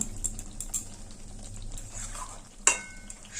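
Bean paturi stirred in a pan as mustard oil and chopped coriander are mixed in, giving a soft, continuous scraping and gentle sizzle close by, with one sharper clink near the end and no voices.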